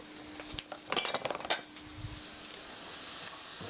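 A utensil scrapes and clinks against a pan as flour is stirred into sautéed onions, heard as a quick run of close metallic taps over a faint, steady sizzle with no talking.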